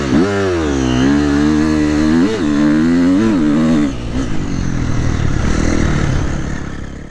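A KTM 350 XCF dirt bike engine runs up close, its revs rising and falling in several quick blips before settling into a rougher, lower running note.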